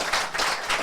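An audience applauds after a post-race interview at the UTMB 2023 ultra-trail event, producing a steady, dense wash of clapping across the whole brief moment with no voices.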